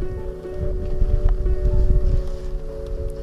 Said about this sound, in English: It's a bit windy, but not too bad.